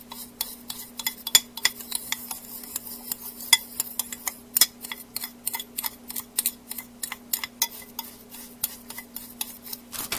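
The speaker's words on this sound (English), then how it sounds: "I'm just going to mix that all up and sprinkle it over the top of the apples" A spoon stirs dry topping ingredients, including cornstarch, in a bowl for a cinnamon roll apple pie, giving a rapid, regular clinking and scraping against the dish, close and steady.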